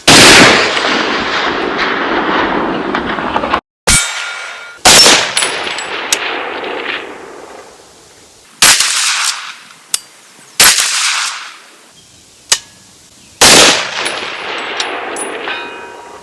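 An AR10 rifle in .30-06 firing outdoors at a steel target: sharp loud shots, each followed by a metallic ring from the steel, a handful spaced over several seconds with quiet gaps between.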